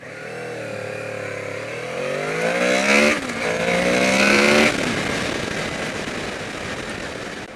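A 2014 Honda VFR800F V4 VTEC motorcycle engine revs loud and close, its pitch climbing steadily through two strong pulls with a brief dip between them, then easing off. No one speaks.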